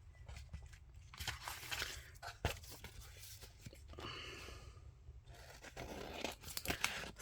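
Masterboard paper being cut into tags, with irregular snips, rustles and crisp tearing-like cuts spread across the span, close and fairly quiet.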